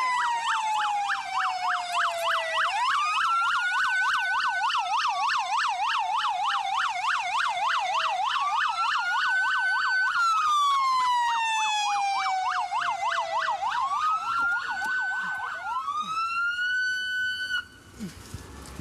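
A loud police car siren wails continuously, cycling through rising and falling tones, then switching to a faster yelp pattern before stopping abruptly.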